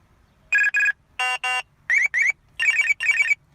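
Alert tones from a K40 RLS2 portable radar detector, five clear electronic chirp pairs in quick succession, loud and close against near silence.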